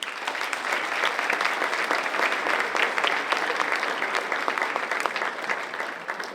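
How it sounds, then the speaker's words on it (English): A big round of applause from the crowd at the 2013 Latin Sports Hall of Fame induction ceremony, a steady, moderately loud roar of many clapping hands that holds evenly from start to finish. "A big round of applause."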